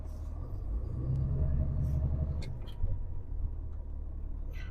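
A Class B automatic truck rolls to a stop under its service brake: a steady low engine and road rumble that eases off, with a brief knock and faint hiss near the end.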